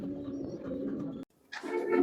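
Fancy Uzbek pigeons at a pigeon farm give low, soft cooing calls close by, a short burst, a brief silence, then another coo.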